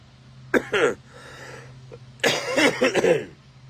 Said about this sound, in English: This is not a weed cough, I promise.